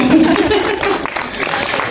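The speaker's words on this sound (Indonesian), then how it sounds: "Tepuk tangan dong buat mereka." Audience applause at a talk or screening event, a dense wash of clapping running for the whole stretch while a voice speaks over it near the start.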